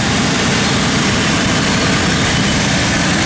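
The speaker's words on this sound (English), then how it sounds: "engine runs excellent, really sounds nice, and goes down the road real smooth" A 1964 Buick Wildcat convertible's engine running smoothly, a loud, steady low rumble close by with no talking over it.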